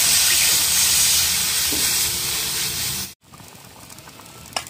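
Water poured into a hot, frying Bengali fish curry with tangra fish, potatoes and brinjal sets off a loud, close hissing sizzle that cuts off abruptly. Quieter bubbling and a faint clatter follow.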